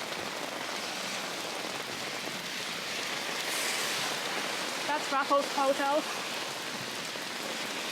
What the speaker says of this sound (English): if you want to imagine what it would be like in this thunderstorm